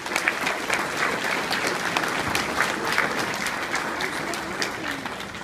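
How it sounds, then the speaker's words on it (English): Steady, dense applause from a crowd at a ball honoring Marine spouses, loud and sustained with no break, the many claps blending into an even roar. "Big round of applause for the spouses."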